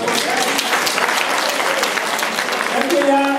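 A student assembly breaks into sustained applause to approve its statutes by acclamation, dense steady clapping from a roomful of people filling the whole stretch at even loudness, with a voice faintly emerging near the end.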